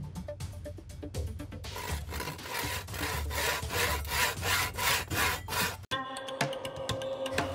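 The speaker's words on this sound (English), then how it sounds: "Here is the handsaw." A handsaw cuts through wood in steady back-and-forth strokes, close and fairly loud, with a short pause near the end before a few lighter rasping strokes.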